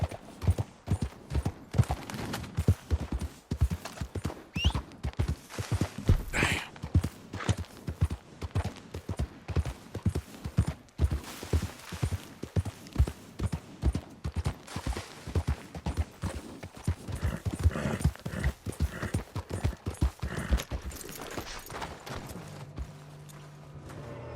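Horse hooves clip-clop in a fast, steady rhythm while riding in the video game Red Dead Redemption 2, sounding close and continuous, with a brief whinny and slight tack noise mixed in.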